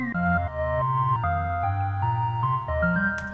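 A chopped music sample is cut into four segments, one of them played in reverse. Sustained tonal notes change pitch every half second or so, in a continuous loop with no talking.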